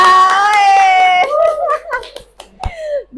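Children in a classroom play a clapping game, chanting a rhythmic rhyme together while a few sharp hand claps land between the sung lines.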